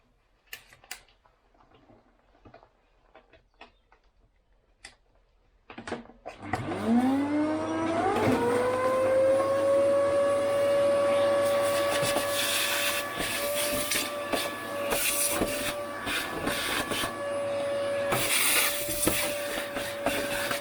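After some quiet clicks and handling noises, a vacuum cleaner switches on inside a 1993 Range Rover sill, its motor whining up in pitch and then running loudly and steadily.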